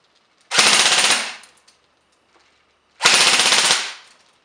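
A JG Mag K airsoft gun running on a 9.6 volt battery fires two full-auto bursts of about half a second each, a rapid buzzing rattle. The bursts are loud and close, separated by near silence.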